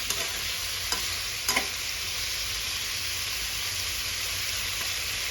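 Japanese cucumber with egg is stir-fried in a pan, producing a steady, close sizzling hiss broken by a few soft utensil taps and scrapes.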